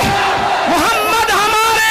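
A large crowd at a religious gathering chants the slogan Muhammad Hamare in unison, a loud, swelling chorus of many voices rising and falling together, close and continuous.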